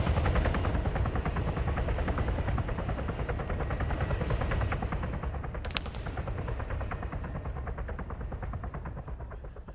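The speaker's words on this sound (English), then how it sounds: "Helicopter, I think, just got shot down." A helicopter in a military shooter game drones loudly and steadily throughout, its rotor chop overlaid with a dense rattle of distant gunfire, with one sharp crack standing out midway.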